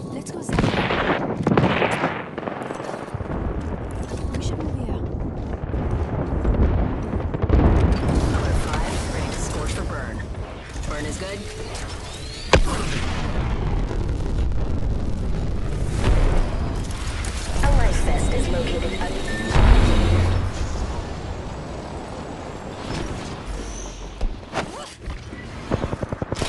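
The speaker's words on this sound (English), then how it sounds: "Airstrike." Airstrike in Apex Legends on the Olympus map: a long stretch of deep booms and rumbling blasts with scattered gunfire, several sharper impacts standing out, under frequent talking.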